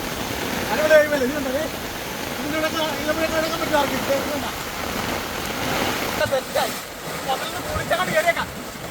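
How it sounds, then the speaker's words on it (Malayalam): Heavy rain pours onto a flooded ridge gourd field, a steady broadband hiss that lasts the whole stretch while someone talks over it. "മഴയുണ്ടല്ലോ"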